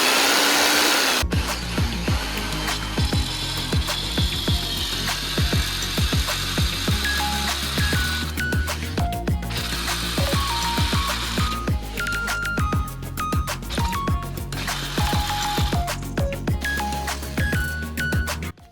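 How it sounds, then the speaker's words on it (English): Power tool with a wood-cutting blade at work during a CBR900 streetfighter motorcycle build, a loud whining motor buzzing and rasping continuously with repeated cutting bursts, close and alone for nearly twenty seconds. "Power tool time."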